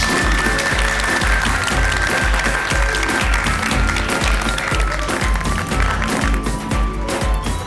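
Audience clapping fills a ceremony hall in a steady, dense wash of applause that runs unbroken from start to finish, loud and close, with no voices rising above it.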